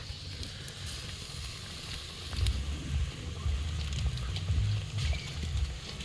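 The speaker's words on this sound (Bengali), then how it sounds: "বাটার পনিরের জন্য বাটারটি আগে দিতে হয়" Butter melting in a hot pan for butter paneer, a soft, continuous sizzle with low crackling close by, fairly quiet and with no talking.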